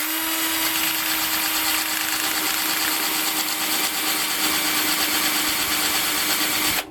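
A power drill fitted with an M6 drill bit cuts a groove into a bolt to make a hobbed bolt for a RepRap 3D printer. The steady, close, gritty whirring grind continues for several seconds and then stops abruptly.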